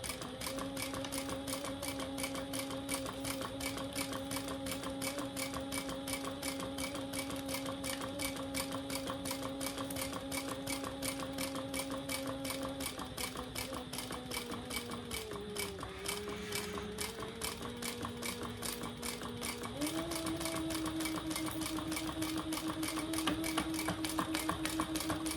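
A sewing machine runs steadily while stitching a bag, a continuous fast mechanical chatter with a humming motor tone that dips in pitch briefly midway and then picks up again.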